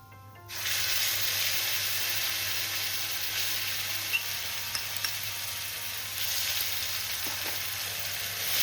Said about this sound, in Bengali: এবার আমি বেটে রাখা মশলাটা দিয়ে দিচ্ছি।